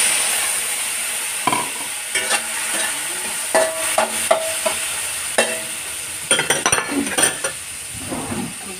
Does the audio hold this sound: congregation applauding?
no